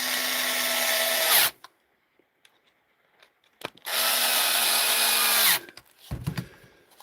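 Power drill driving long screws into a DeWalt tool during a repair, two sustained whirring runs of about a second and a half each, separated by quiet handling clicks and followed by brief rattling.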